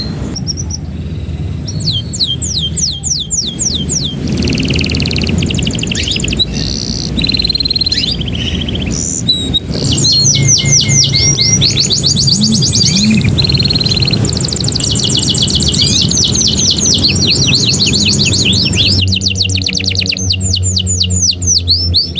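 Caged canaries chirping and singing up close, dense overlapping trills and rapid warbles running continuously and loud, with no talk.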